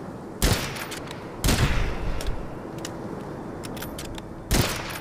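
Three loud gunshots blast in the Witchfire video game as an obstacle is shot apart, spaced a second or more apart over a steady low background.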